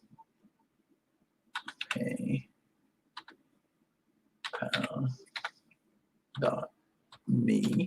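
Scattered bursts of clicking on a computer keyboard, short clusters of keystrokes separated by quiet gaps, fairly close and moderately loud.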